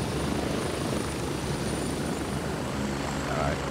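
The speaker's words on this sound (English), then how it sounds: "Helicopters are so loud." Helicopters in the military shooter game Grey Zone Warfare give a continuous, loud rotor and engine drone with a steady chopping throb, sounding close by and holding throughout.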